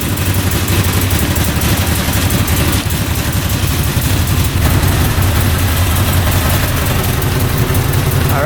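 A freshly rebuilt UTV engine, running without its clutch fitted, idles with a loud, steady, close-up rumble that continues unbroken with no voices.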